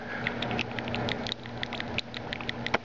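Small ball bearings rattle and clink rapidly against the sides of a paint can in quick irregular bursts, close by.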